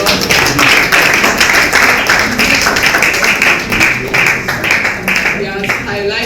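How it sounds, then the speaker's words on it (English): A conference audience in Nigeria gives a speaker a dense, sustained round of applause, with voices mixed into the clapping. "let's give him a huge round of applause"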